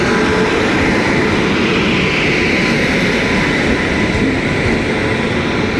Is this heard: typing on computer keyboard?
no